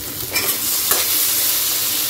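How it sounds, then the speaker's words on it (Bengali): Fish fat frying with onions in a pan makes a close, loud, continuous sizzle, with a couple of brief stirring scrapes near the start. "একটু মাছের তেলটা পেঁয়াজ দিয়ে ভাজা ভাজা করে রাখছি।"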